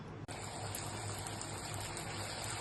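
Luchi, small Bengali flatbreads, frying in hot oil, giving a steady, fairly quiet hissing sizzle that starts abruptly and continues without a break.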